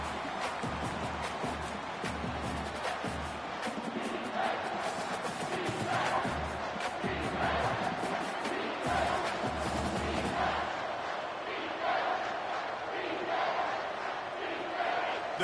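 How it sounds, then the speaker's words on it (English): A stadium crowd in the College Football 25 video game roars and cheers steadily throughout, a dense, loud, continuous wash of voices building energy with no clear pauses. "The crowd elevating its energy, willing this defense to get a stop on this big third down."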